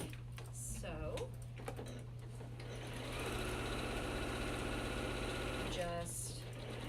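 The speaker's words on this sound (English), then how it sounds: "you're going to sew with the scant 1/4 inch on either side of that line" A sewing machine stitches quilt pieces with a scant quarter-inch seam while chain piecing, running as a steady close motor whir with rapid needle clatter and a constant low hum. A voice talks over it at times.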